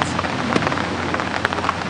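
Steady rain falling on a golf course during a women's amateur tournament, a dense even hiss of drops spread across the whole stretch with no voices.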